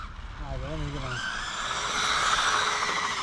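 Cheap brushless RC cars take off in a drag race, their electric motors rising into a loud, climbing whine with tyre scrub; a brief voice is heard just before the cars accelerate.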